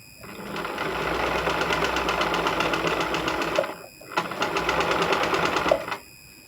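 A table top sewing machine stitches a buttonhole with a steady, loud mechanical whir and rapid needle clatter, running for about three seconds, stopping briefly, then running again for nearly two seconds.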